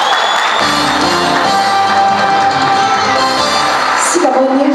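A large crowd at a wedding applauds and cheers loudly and steadily, with shouts and whoops throughout, rising at the end.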